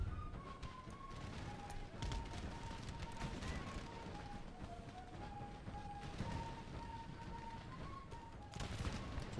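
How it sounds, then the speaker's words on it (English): Distant crackling musket fire by rank in an Empire Total War battle, modded with Darthmod, with a continuous rolling patter of volleys and a thin tonal music line over it, all fairly faint. "Fire by rank, improving our ability to maintain fire with the bowmen"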